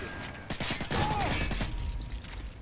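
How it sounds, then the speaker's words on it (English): Gunfire in a military video game, a rapid burst of several shots close together with a tonal in-game cue over it, followed by a fading echoing tail. "How many shots is that guy gonna take?"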